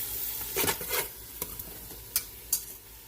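Gumbo ingredients sautéing in olive oil in a pot, a soft steady sizzle with a few stirring scrapes and light clinks of a utensil against the pot, close up and with no talk.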